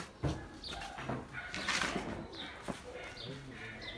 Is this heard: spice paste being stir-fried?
no